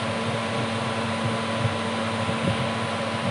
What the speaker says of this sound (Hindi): मेरी आवाज़ थोड़ी मतलब पीछे से आवाज़ आएगी क्योंकि कूलर चल रहा है